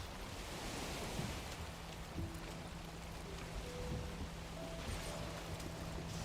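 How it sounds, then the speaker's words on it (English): Heavy rain and a storm roll over the shore in the Minecraft-style survival game, a steady dense hiss filling the whole clip with faint low tones drifting through it. "That heavy fogged rain and storm came in at the worst time there."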